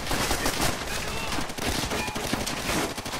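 Gunfire in the video game Call of Duty: World at War, loud close bursts of rapid shots and dense battlefield firing, continuous across the moment, with a voice talking faintly underneath.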